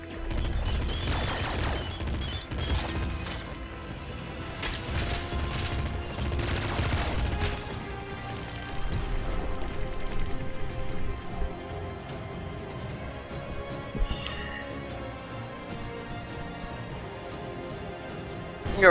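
Rapid assault rifle fire in a shooter video game, dense bursts loud in the first half, then continuing more steadily under game music and effects.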